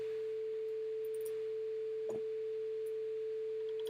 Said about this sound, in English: we have a sine wave of 800 hertz. This is the carrier.